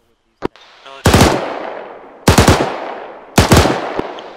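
Gunfire from engaging an enemy in the video game Arma 3: a sharp single crack, then three loud heavy bursts roughly a second apart, each with a rolling echoing tail, close and alone without talk.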